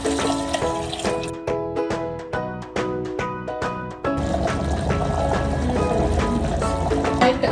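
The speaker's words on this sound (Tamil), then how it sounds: "இப்போ இதில் வந்து நான் அந்த அரிசிக்கு தகுந்த அளவு தண்ணி வந்து இதில் பாத்திரத்தில் நான் எடுத்து வச்சுருக்கேன்." Water is poured into a pot of rice for Tamil Nadu-style chicken biryani, a steady close splashing and gurgling stream that runs throughout, with tonal sounds layered underneath.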